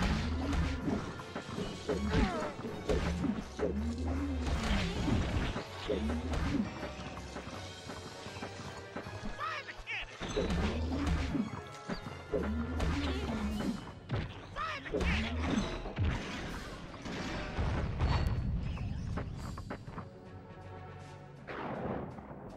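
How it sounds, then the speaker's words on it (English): Cannon blasts and heavy crashes in a Spyro video game, booming and smashing again and again at close range over busy game sound effects and music. "Fire the cannon!"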